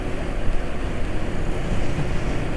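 A three-wheeler motorcycle engine, running on 20W50 oil, gives a steady, smooth hum throughout, broadband and even, with some wind-like noise over it.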